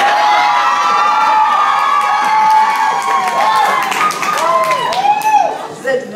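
Schoolchildren at a 2015 graduation ceremony at École Ste Marie in Princeville cheer loudly, with high-pitched shouts and whoops and scattered clapping filling a large room for several seconds.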